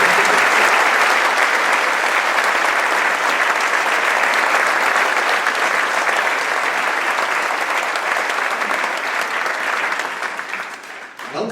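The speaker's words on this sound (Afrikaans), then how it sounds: "Kom ons gee net 'n lekker hande klap vir hom." Long, loud burst of audience hand-clapping at a high school prefect induction ceremony, dense and sustained for about ten seconds before tapering off near the end.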